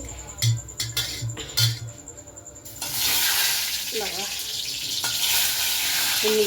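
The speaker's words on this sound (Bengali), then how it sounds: "নাড়া দিলে ছ্যাট ছাট করে উঠছে" Dry red chillies, bay leaves and whole garam masala crackle in hot oil for a dal tempering. A loud, steady sizzle bursts in after a few light clinks and keeps going while the pan is stirred, with brief talk over it.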